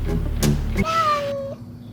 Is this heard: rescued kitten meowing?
yes